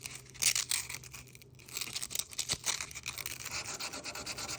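Close, steady rubbing of folded 320-grit sandpaper worked by hand, with uneven strokes in a continuous rasping texture.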